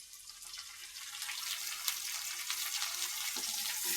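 Curry leaves fry in hot oil with garlic, giving a steady broad sizzle that swells slightly and stays close and even throughout, with no talking.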